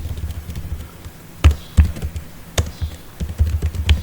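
Keys on a computer keyboard are tapped in a few short, irregular clusters of clicks, close and quiet, with no voices.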